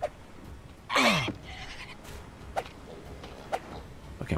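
A pig squeals in the survival game Stranded Deep, one loud shrill cry with a falling pitch, followed by a few short, fainter squeals and thuds spread across the scene.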